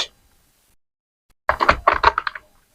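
Quick bursts of typing on a computer keyboard in a quiet room, a short run of close, crisp key clicks after a silent pause, with no talk over it.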